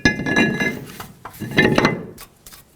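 Metallic clanks and scrapes as a brake rotor goes onto the wheel hub of a Ford Expedition, two bursts of hard metal contact with ringing overtones and a quiet pause between.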